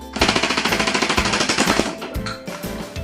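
A BOOMco toy blaster fires a fast burst of darts, a rapid mechanical rattle of about twenty evenly spaced pops in under two seconds. A few slower, irregular clicks follow as it sputters.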